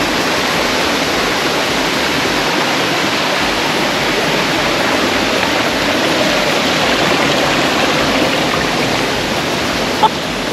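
A waterfall and its stream rush in a dense, loud, unbroken roar, with a small knock near the end.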